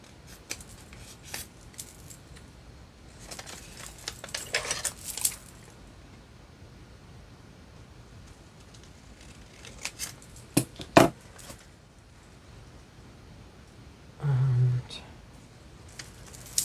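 Scissors cut through paper for a journal pen pocket, scattered crisp snips and rustling handling, with a brief low hum near the end.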